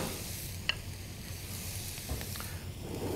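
Mushrooms sizzle in a hot pan for a rigatoni dish, a steady close frying hiss broken by a few soft stirring clicks and scrapes.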